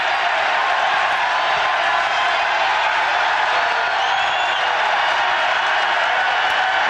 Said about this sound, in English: the Aggie crowd comes to life now